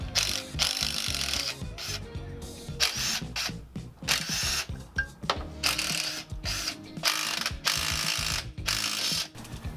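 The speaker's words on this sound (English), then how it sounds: "There are a total of 5 bolts to be removed on that brake line so that it's free from the axle housing" Ratchet wrench loosening 12 mm brake line bolts on a Toyota Tacoma rear axle housing, rapid metallic clicking in repeated bursts with short pauses, close and fairly loud.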